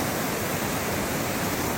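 A river in Malaysia flows with a loud, continuous rushing wash of water, close and even throughout, with no voices.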